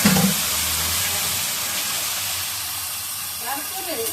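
Carp fish fries in hot oil with fenugreek seeds, giving a loud, continuous hiss and sizzle that holds steady throughout, with a brief voice near the start and end.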